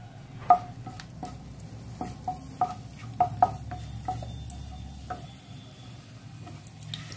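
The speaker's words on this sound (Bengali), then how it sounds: "আমি ফোড়নে দিয়ে দেবো তেজপাতা, শুকনো লঙ্কা, এলাচ আছে, দারচিনি আছে" Whole spices (bay leaf, dried red chilli, cardamom and cinnamon) frying in hot oil for a chicken tempering, with a low sizzle under sharp clinks of a spoon stirring against the pan.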